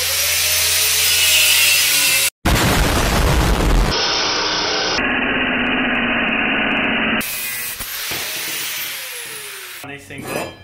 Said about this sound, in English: Let's grind a gas cylinder, eh?